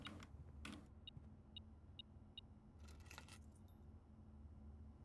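A spare set of car keys jangles as it is picked up in the video game Blue Prince, a bright metallic rattle of several quick clinks, quiet against a low background rumble with no voices.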